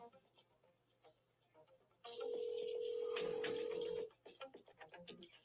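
A phone call dials out with a few quick keypad tones, then a long steady ringback tone, followed by faint voices and background noise.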